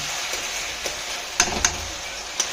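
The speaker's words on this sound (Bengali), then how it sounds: "আদা রসুনের পেস্ট। এবার এটাকে ভালো করে একটু ভেজে নিচ্ছি।" Ginger garlic paste fries in a pan with a soft, steady sizzle, broken by a few sharp clicks of a spoon against the pan.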